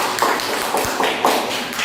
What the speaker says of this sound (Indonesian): tepuk tangan untuk Mas Ika